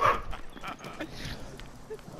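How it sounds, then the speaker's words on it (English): Cookie, a pet dog, gives a few short barks and yips near the start, fairly close, with a voice murmuring faintly in the background. "It's a fucking dog."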